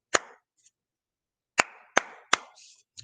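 Hands clap out a simple rhythm pattern for a second-grade music lesson: one sharp clap, a pause, then three quicker claps and a final one, crisp and close in an otherwise quiet room.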